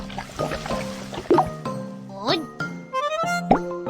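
An egg drops into a pan in a children's cartoon cooking game for fried rice, heard as a string of squishy, gurgling liquid plops with bouncy tonal sound effects, close and lively.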